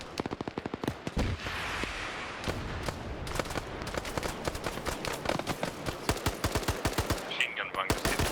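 Machine-gun fire from a bunker in a military video game set in a Congo campaign, in rapid repeated bursts of sharp shots with short pauses, fairly close and loud.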